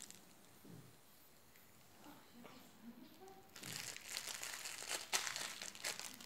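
Wet paper crumpled and crinkled by hand while wrapping a homemade present, starting with faint soft rustles and growing into a louder, close crackling scrunch.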